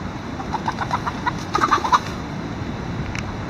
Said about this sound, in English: Wife and daughter catching chickens.